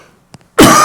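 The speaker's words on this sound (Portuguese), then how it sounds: "Vou dar uma tossidinha aqui" A single sharp cough from one person bursts in near and loud after a short stretch of near silence and a faint throat sound, sustained to the end.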